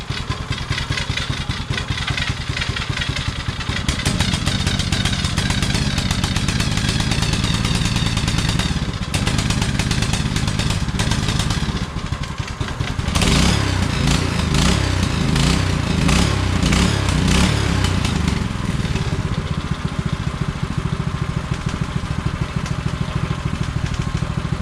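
Small Doodlebug mini bike engine running steadily throughout, a loud, buzzy single-cylinder drone with a rough, rattling patch midway, close up and without talk.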